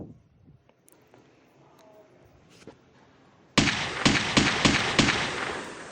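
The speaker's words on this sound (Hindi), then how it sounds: "वह रोबोट मेरे बूट को साबू समझकर गोलियां दाग रहा है" After a quiet stretch with faint rustles, a loud burst of rapid gunfire from a robot erupts, several sharp cracks in quick succession over a harsh, noisy background.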